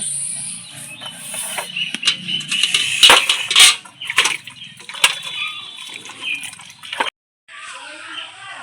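Thick aloe vera leaves are washed under running water in a kitchen, with irregular splashing, dripping and handling noises, a brief silent gap, then more water.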